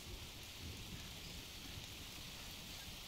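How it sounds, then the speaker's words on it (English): Steady rain falls in the jungle survival game Green Hell, a dense continuous hiss that stays loud and unbroken throughout, with no talking over it. "Raining meh? Raining kan?"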